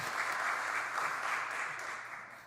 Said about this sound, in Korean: 우리 임원단들을 위해서 박수 한번 부탁을 드립니다